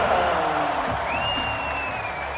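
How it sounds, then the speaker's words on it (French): A crowd applauds basketball Hall of Famers at an arena event in Paris, a steady, dense clapping wash with a faint tonal whistle-like sweep rising over it. "Mesdames et messieurs, vos applaudissements pour nos 5 Hall of Famers, nos 5 légendes du basketball"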